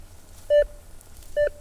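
Two short electronic beeps from a metal detector signaling a target, each a steady mid-pitched tone with a brief tail, spaced about a second apart over quiet background.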